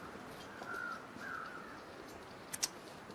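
Crows caw in the survival video game The Long Dark: two faint, drawn-out calls at a distance over a steady hiss of wind, with a couple of sharp clicks near the end.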